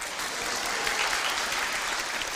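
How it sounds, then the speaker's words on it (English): Applause from a small audience right after a piano piece, dense and steady clapping filling the full two seconds at a fairly loud, even level. "Don't clap for me."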